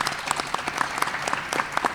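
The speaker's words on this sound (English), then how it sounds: "Let's give her a nice round of applause." Audience applause at a high school athletic signing event, a short burst of scattered hand claps at moderate volume.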